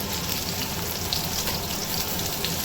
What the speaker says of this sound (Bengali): তো আলু ভাজার সাথে পেঁয়াজটাও লাল হয়ে যাবে মানে ভাজা হয়ে যাবে